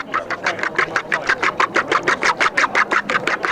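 A whisk beats liquids into four eggs for fishing bait, a rapid, even series of sharp scraping strokes, about five per second, close by and alone.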